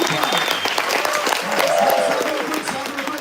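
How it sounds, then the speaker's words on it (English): A crowd at a sales summit applauds steadily, many hands clapping in a full, even roar while a voice calls out over the clapping partway through. "give it up for them"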